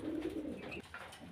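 Fancy pigeons coo close by at a pigeon farm: a soft, rolling call followed by a brief pause and fainter murmurs.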